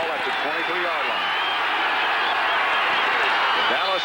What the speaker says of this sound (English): The Dallas crowd already alive.